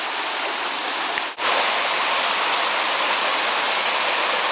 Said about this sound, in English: here's the creek again. It's back running in a real small little channel here.